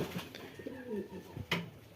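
Nesting pigeons coo softly nearby, low throaty warbling calls rising and falling, with a brief rustle midway.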